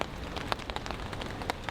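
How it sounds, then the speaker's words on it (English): Light rain patters on a camp tarp during an incoming storm, a dense close spatter of drops with scattered louder individual hits and no voices. "As far as the weather goes, it's raining, but it's not all that heavy."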